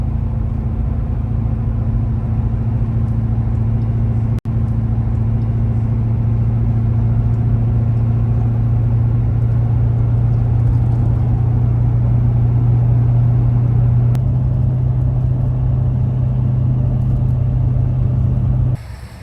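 Steady loud engine and road rumble from a car on a highway drive, a continuous low drone holding level throughout with a brief dip near the end.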